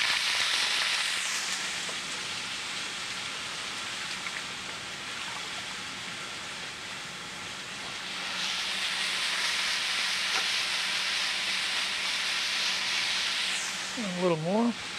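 Food hits a hot pan in a restaurant kitchen with a broad, steady hiss of sizzling that rises again later and runs for many seconds, with a brief voice near the end.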